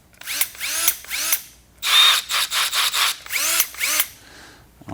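A Milwaukee M18 brushless drill/driver runs in several short bursts, its motor whining up and down with quick rev changes and brief pauses, close and loud with no talking.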